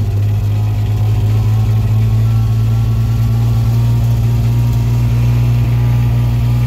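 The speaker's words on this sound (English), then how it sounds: "Our side-by-side's a diesel, so she runs a little loud" A diesel side-by-side utility vehicle idles and runs steadily, a loud, continuous low rumbling engine drone heard close up throughout, with no talking.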